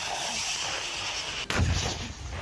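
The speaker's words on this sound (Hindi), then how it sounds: "कहीं गोले बरसाकर तो कहीं रूसी फौजियों ने ज़ेलेंस्की के सैनिकों को तोप खाने से अपने" Artillery shelling by Russian forces in Ukraine: a single sharp, loud blast cuts through steady background rumble, followed by a brief low boom and decay.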